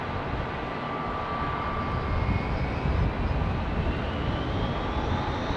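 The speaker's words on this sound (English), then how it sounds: "this 767 that we're about to see, United's 3865, was it?" United Boeing 767 at London Heathrow, a steady loud jet engine roar with a slowly rising whine as it moves, continuous and alone without talk.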